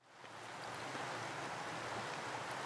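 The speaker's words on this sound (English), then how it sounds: "Nice little rapids here." Small rapids on the Little Madawaska River in Algonquin Park, a steady broadband rushing of water that swells in over the first moment and then holds constant, close and even, with no voices.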